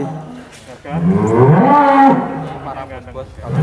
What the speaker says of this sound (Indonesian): ini Stalun monster dari Geraha Inovasi Farm sudah 1 tonan